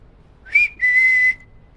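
A person whistles two clear notes at Roche Abbey ruins, a short rising chirp followed by a longer held tone, close and loud in an otherwise quiet space.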